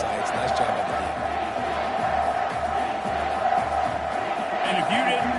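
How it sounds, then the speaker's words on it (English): Football stadium crowd roaring on a big third down, a loud sustained wall of cheering and shouting that swells slightly toward the end, with an announcer's voice running over it. "if you didn't know this was a big play, the crowd is telling you a huge 3rd down"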